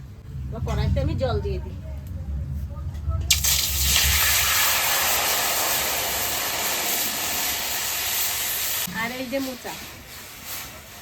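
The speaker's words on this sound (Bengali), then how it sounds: "উনুনে কড়াই বসাই দিছি এবার আমি মোচাটা সেদ্ধ করে নেবো" Banana flower boils in a wok on a stove, with a steady wash of bubbling hiss for several seconds. A voice speaks briefly before and after it.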